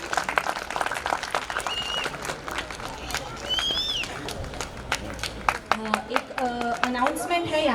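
Audience applause at a Jain monk's Ram Katha sermon, a dense wash of hand clapping from a crowd filling the hall, steady for several seconds with voices and chatter rising toward the end.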